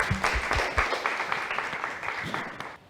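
A studio audience at a Tamil television programme applauds to welcome a guest, a brief burst of clapping that fades over a few seconds.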